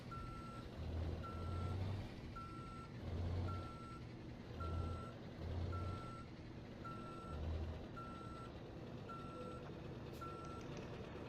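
In Euro Truck Simulator 2, a steady series of evenly spaced reversing beeps sounds over a low idling truck engine that swells and fades, fairly quiet and continuous.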